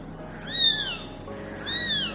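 A kitten less than a week old, found by a road, gives two high, thin meows a second apart, calling for its mother, close and clear over faint background noise.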